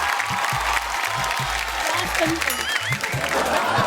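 Studio audience on a Marathi TV dance show clapping in a steady, dense wave of applause that lasts throughout, with a voice talking over it.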